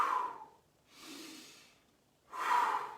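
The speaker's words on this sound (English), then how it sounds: "So nice deep breaths in through the nose." Slow, deep breaths drawn in and let out through the nose during a chakra exercise, close and airy, with three long breathing sounds separated by brief silences.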